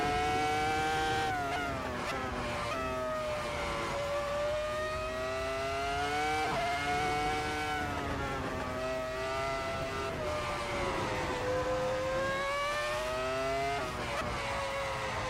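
Ford GT40 race car in a racing simulator video game, engine revving hard and continuously, pitch rising and falling through gear changes, with tire squeal and no voices over it.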